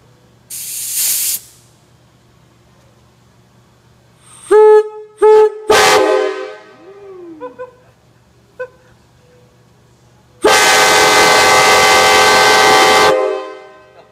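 A loud, sustained multi-tone Nathan AirChime K5LA train horn blast sounds for a few seconds, preceded by short hisses, clicks and a brief honk.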